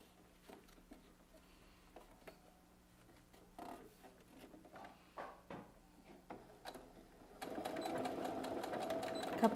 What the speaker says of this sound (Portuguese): a gente vai para a máquina, vai dobrar ela assim e vai costurar de uma marcação até a outra